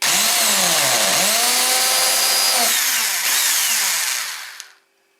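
A power drill drives screws into a homemade wooden jigsaw/scrollsaw table, its motor whining loudly and steadily with pitch sweeps for about four and a half seconds before cutting off.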